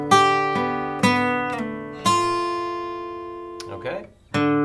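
Slow acoustic guitar notes from a song are picked one at a time, each ringing out and decaying, with a brief scrape near the end before a final note.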